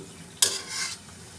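Chalai pakoras in hot oil give a sudden splashy sizzle as they are turned, a bright hiss that swells briefly and fades within a second, with no talking.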